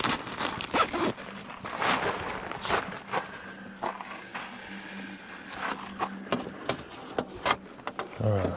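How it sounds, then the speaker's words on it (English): The zipper on a Rightline SUV tent is pulled in a series of quick rasping strokes, close and loud, with rustling fabric between pulls and a brief voice near the end. "How about if we zip that up and that way we don't tighten it too tight?"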